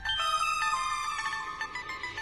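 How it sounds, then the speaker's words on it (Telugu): A mobile phone ringtone plays a bright, repeating electronic melody, clear and fairly close, with no voices over it. "ఫోన్ రింగ్ అవుతుంది"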